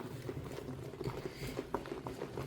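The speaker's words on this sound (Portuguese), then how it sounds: "Coloquei 2 litros aqui, essa água que não é a água de tangerina, e mexo bem" Tangerine-scented detergent gel made with borax being stirred with about two liters of water, giving a steady wet patter and soft sloshing with small bubbly pops, moderately quiet and close, no talking.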